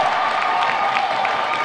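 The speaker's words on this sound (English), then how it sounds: "Desi Cook and the crowd applauds." A volleyball match crowd applauds and cheers in a continuous, loud wash of clapping that fills the gym with no break.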